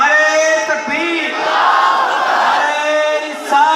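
Large crowd at a religious gathering loudly chanting back the Naara-e-Takbeer slogan, many voices roaring in unison, sustained and close for several seconds.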